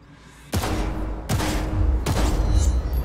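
Three sharp pistol shots from a Cyberpunk 2077 training range, fired at targets about a second apart, each a loud broadband crack with a rumbling tail over steady game ambience.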